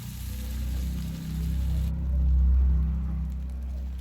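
Ginger and onion frying in fish oil with black cumin seeds and crushed garlic, giving a steady close crackling hiss with a soft low rumble underneath, fairly even throughout.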